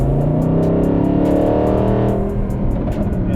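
A Mercedes SLS Black Series with a Capristo exhaust and its valves open rumbles at idle with a deep, loud, continuous low-end burble.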